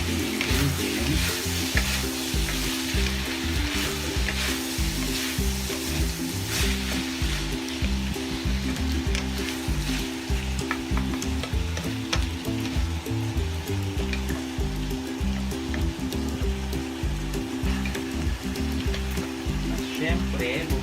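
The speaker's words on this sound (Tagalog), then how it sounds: "Haluin natin siya guys para mag-blend ang ating ingredients." Beef fried rice in the chao fan style being stirred and tossed in a hot frying pan, with a steady, loud sizzle and scraping that runs without a break.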